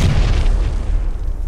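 A single loud, close grenade blast from the PUBG video game, a deep boom that rolls off and decays over about a second and a half.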